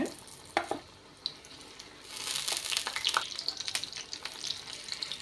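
Masala-marinated chicken frying in an iron pan, with a quiet start that builds into a busy, crackling sizzle mixed with scraping stirs and wet spatters.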